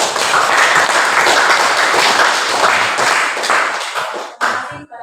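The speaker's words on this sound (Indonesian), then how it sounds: "Lalu kita berikan aplaus di bawah." Classroom applause after a group presentation, a dense burst of many hands clapping together for about four seconds before thinning out into a few scattered claps.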